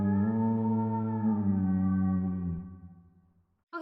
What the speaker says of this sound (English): And then the chant sounds like this.